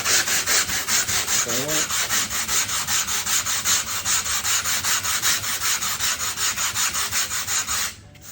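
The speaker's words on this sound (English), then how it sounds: "I am going to take my block and I'm just going to start rubbing back and forth" A sanding block rubs back and forth over a mold in a fast, even rhythm, each stroke a close, loud scratchy swish repeating steadily until it stops near the end, with a few quiet words spoken early on.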